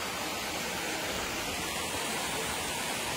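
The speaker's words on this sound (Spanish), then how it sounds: "Porque quería venir precisamente a la cascada." A waterfall near Mazatepec, Puebla, roars in a dense, constant wash of rushing water heard up close, unbroken and with no talking.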